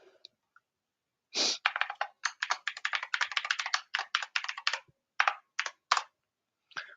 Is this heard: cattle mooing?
no